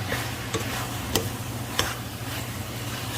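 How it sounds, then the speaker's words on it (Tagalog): Pancit guisado noodles are stirred and tossed in a pan, a steady scraping and soft sizzle with a couple of sharp utensil clicks against the pan, close and continuous. "halo-haloin lang natin"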